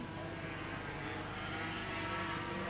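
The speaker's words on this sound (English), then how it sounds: "it's the 3-cylinder Honda in front, the 3-cylinder revalve machine being chased by the 4-cylinder Yamaha" Racing superbikes from 1984, a three-cylinder Honda chased by a four-cylinder Yamaha, heard as a continuous distant engine drone without talking.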